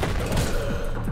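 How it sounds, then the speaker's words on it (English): Burst of video game gunfire and explosive blasts from a grenade in Anger Foot, loud and dense across the whole moment with no talk over it. "Bro, he threw a grenade."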